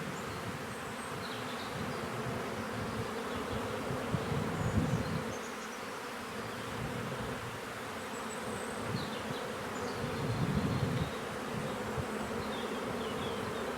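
A dense swarm of honey bees hums around an open hive during frame inspection, a continuous close buzzing drone that swells and fades slightly, with no voices.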